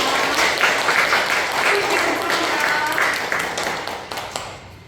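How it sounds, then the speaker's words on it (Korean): Congregation applauding inside a church during a worship service, dense, even clapping from the whole room that fades gradually over a few seconds. "여기 계신 모든 식구님들께 감사의 박수를 올려주시면 감사합니다"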